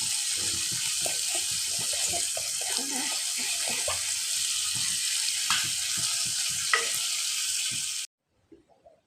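Prawns frying in a pan, a loud, steady broadband sizzle with occasional crackles and small pops, continuing close up for about eight seconds before cutting off to near silence with a few faint knocks.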